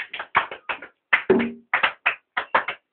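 A church congregation claps in acclaim of Jesus, about a dozen bursts of hand claps in loose groups at a moderate level, with a brief shout or voice partway through.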